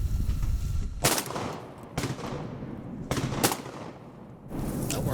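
Gunshots from a hunting party, four loud, sharp blasts spaced about a second apart, each cracking close by and trailing off in a short echo over quiet outdoor background.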